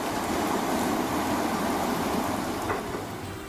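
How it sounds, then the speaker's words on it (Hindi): Heavy monsoon rain over flooded streets makes a dense, steady roar of falling water and rushing floodwater. It stays loud and even throughout, with no voices. "जबरदस्त बारिश की वजह से कई इलाकों में पानी भर गया है।"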